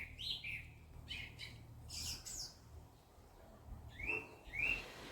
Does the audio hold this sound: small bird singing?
yes